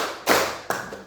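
Two sharp hand claps from a group, clear and close, spaced about half a second apart and then trailing off.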